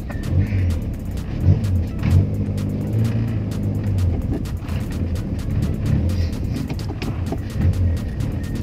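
A 1986 Toyota Corolla SE Saloon engine drones steadily while driving, swelling and easing in repeated revs. It sounds close and fairly loud, with no talk.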